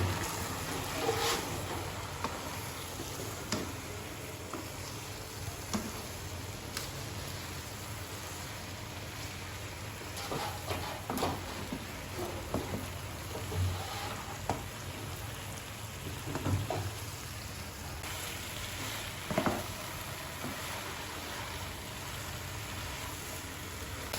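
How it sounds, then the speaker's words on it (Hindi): Eggplant pieces frying in masala in a pan while being stirred, a steady low sizzle with occasional faint scrapes and clicks from the spoon, no talking. "बैंगन जो अच्छी तरह से फ्राई हो चुके हैं, देखिए माशाल्लाह से मसाले में भी मिक्स हो चुके हैं"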